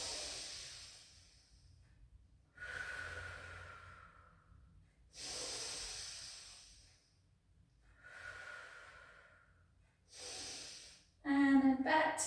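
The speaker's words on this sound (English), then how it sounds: "Take a breath in." Slow, audible breaths during a gentle pilates rehab exercise: several long inhales and exhales through the nose and mouth, close and soft, each lasting a couple of seconds, with a short burst of other noise at the end.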